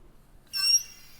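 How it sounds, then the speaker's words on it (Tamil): A gas charger bullet screwed tight into a dispenser releases its gas in a single short, sharp hiss after near silence, then quiet returns. "கேஸ் உள்ளே இறங்கிடுச்சு."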